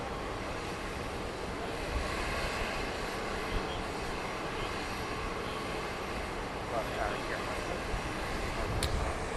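A jet airliner at Dallas Love Field Airport rumbles steadily at night, a broad continuous roar that stays loud and even throughout, with faint radio chatter in the background.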